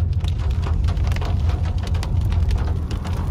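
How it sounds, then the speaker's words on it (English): Hail and heavy rain drum steadily on a car during a thunderstorm on a mountain road, a dense, continuous patter of close impacts with a low rumbling bed underneath. "Wow, we're getting some good hailstones right here."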